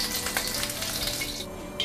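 Shrimp sizzle and crackle in hot oil in a pan, a close, busy frying hiss with a few louder pops.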